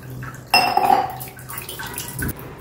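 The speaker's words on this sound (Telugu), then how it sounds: "దీని మీద వెంటనే చల్లటి నీళ్ళు పోసేయండి" Cold water is poured over freshly boiled noodles in a home kitchen, a sudden splashing gush with a metallic clink of the vessel, then trickling and a final thud.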